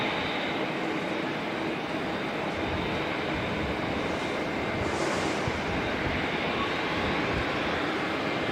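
A Boeing 787 airliner in black livery, flight NZ146 arriving from Brisbane, roars steadily past at Auckland Airport, a loud continuous broadband engine rush that swells slightly midway, with no talking.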